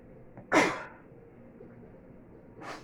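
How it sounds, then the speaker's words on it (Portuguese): A single sharp sneeze bursts out close by, followed by quiet room noise and a softer breathy exhale a couple of seconds later. "O espirro do dia."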